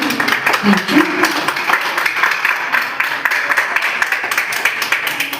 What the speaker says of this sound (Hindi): सभी से थोड़ा सा तालियों के साथ चाहती हूँ